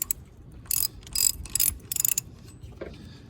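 Ratcheting socket wrench loosening valve cover bolts on a 2000 Toyota Camry: four short bursts of rapid clicking close up, then a faint clunk.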